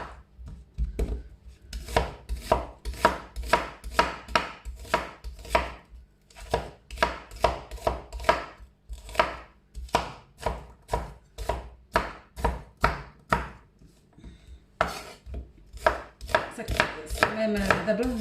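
A knife chops onions on a board for a quick Moroccan tagine, with steady, rapid, crisp strikes in bursts separated by short pauses, close and clear with no talking.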